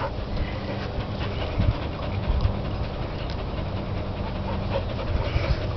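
A dog pants steadily and close by, with quick rhythmic breaths running throughout and no talking over it.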